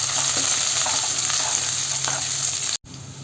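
Garlic and curry leaves fry in oil for mango pickle while being stirred, making a loud, continuous sizzle with faint scraping up close. The sound cuts off abruptly near the end.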